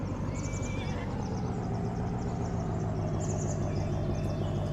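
Horses in Farming Simulator 19 whinny twice, once near the start and again later, over a steady engine-like hum.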